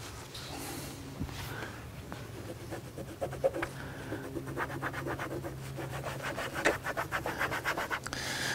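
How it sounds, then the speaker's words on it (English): Tape being pulled and pressed along rubber trim on a 2018 Ford Raptor, a close run of rubbing and scratchy tearing strokes that quicken into a rapid rasping rhythm toward the end. "So I'm going to tape up all of this rubber trim."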